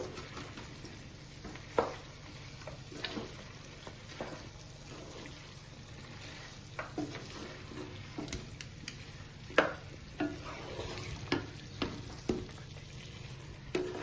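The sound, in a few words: chicken frying with curry leaves and chillies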